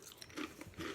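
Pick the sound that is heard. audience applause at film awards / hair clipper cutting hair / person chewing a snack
person chewing a snack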